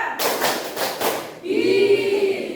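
Students in a classroom clap in unison as part of a rhythmic clapping pattern, several sharp group claps close together, followed by someone talking.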